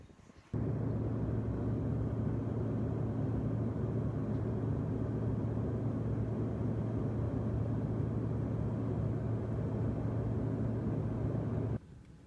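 Steady, low rumbling ambience fills Entebbe Airport in Uganda, a constant even drone with no distinct events that starts and stops abruptly.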